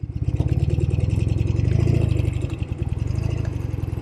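A 1972 Norton 750 Commando Combat motorcycle pulls along in first gear, its engine loud and close with a fast, even firing pulse that rises slightly and then eases off.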